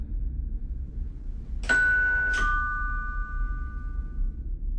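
A doorbell gives two quick chimes in succession, each with a bright ringing tone that lingers and fades over a low background hum, with no talking.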